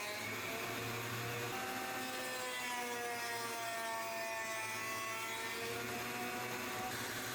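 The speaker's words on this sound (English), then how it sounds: "Run the piece over the blades a few times until the edge is square with the top." A woodworking jointer squaring the edge of a board for a cutting board, producing a steady, close mechanical whir with a continuous grinding hum and no pauses.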